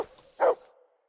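A dog gives one short howling yelp, a single tonal cry rising out of near silence and trailing off quickly, close and moderately loud.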